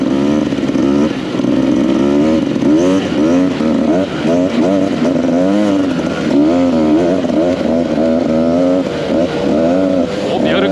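Two-stroke enduro motorcycle riding over muddy off-road terrain, its engine droning steadily and revving in waves throughout, loud and close, with some faint voice underneath.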